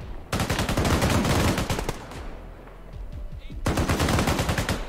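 Rapid automatic gunfire rattles loudly in the military shooter game Arma 3, one long sustained burst, a brief lull with faint shots, then another heavy burst close by.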